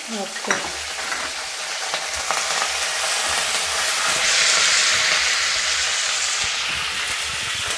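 Urad dal, mustard seeds, cumin, dried chillies and curry leaves fry in hot oil with a steady, loud, close sizzle that swells and brightens partway through, with a few stirring clinks and no talking.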